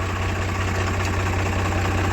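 A Swaraj 744 tractor, a 2013 model on 14-inch tyres, idles steadily with a deep, even diesel chug and a low rhythmic knock, close and loud throughout with no voices.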